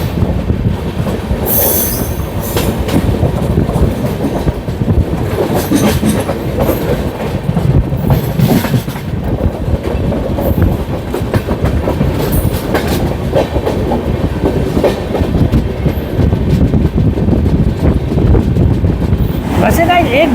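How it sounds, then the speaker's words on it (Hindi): The Garib Rath Express rolls along a Patna–Kolkata route, with a loud continuous rumble of rail wheels, rhythmic clickety-clack and occasional squeals under rushing wind, heard close up for a long stretch. "पटना और कोलकाता के बीच चलने वाली अपनी गरीब रथ एक्सप्रेस है ये"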